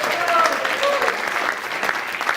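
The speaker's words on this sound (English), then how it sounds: "Well, a round of applause, come on" An audience at a lifeboat debate applauds, a dense steady patter of clapping throughout with a couple of brief whistles or whoops rising above it.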